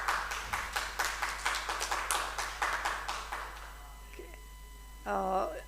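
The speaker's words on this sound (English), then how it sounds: "loud round of applause" A small audience at a literature festival poetry session in New Delhi gives a brief round of clapping, evenly spaced claps fading out after about four seconds, followed by a short voiced sound.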